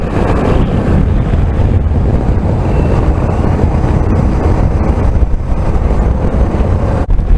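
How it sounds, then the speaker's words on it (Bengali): Strong, constant wind buffets the microphone during a motorbike ride in Odisha, a loud roaring rush that never lets up, with faint engine and road noise beneath. "হাওয়াটা হঠাৎ করে একটু ঠান্ডা হয়েছে, বোধহয় গাছের ছায়াগুলো রয়েছে বলেই।"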